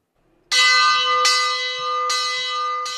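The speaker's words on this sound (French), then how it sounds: "la cloche de l'abbaye d'Hautecombe sonne l'heure de la prière" The church bell of Hautecombe Abbey, calling to prayer, rings out loudly and close, four resonant strokes in slow succession, each leaving a long ringing hum that carries under the next.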